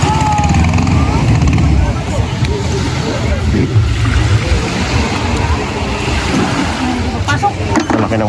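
A large motorboat engine drones loudly during a boat race, a steady rumbling roar mixed with water and wind noise while people talk over it.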